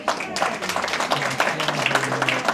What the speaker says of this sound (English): So let's give her a right round of applause.